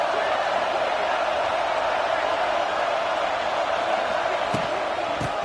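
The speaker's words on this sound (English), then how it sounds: "This crowd ready to make its presence known." Crowd noise in an NCAA college football video game, LSU at Florida, a dense continuous stadium roar at steady loudness, with a couple of brief knocks near the end.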